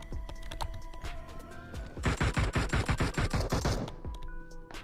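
Rapid bursts of automatic gunfire crackle through a battle royale shooter video game, dense volleys clustering in the middle before sparser shots at the end, with no talk over them.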